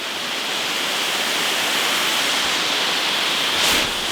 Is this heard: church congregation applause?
no